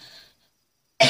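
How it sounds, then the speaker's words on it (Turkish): A single short, sharp cough bursts out near the end after a faint breathy sound and a moment of silence. "Ay öksürük tuttum"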